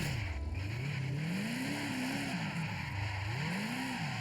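A Ford F100 pickup truck engine in the racing game Forza Horizon 5, droning steadily with its pitch swelling and falling as the throttle rises and eases, loud and close, with no talking.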